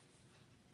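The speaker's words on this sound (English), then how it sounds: "oh, sorry, this cough, folks." A single short cough bursts out abruptly at the very end after near silence, close and fairly loud.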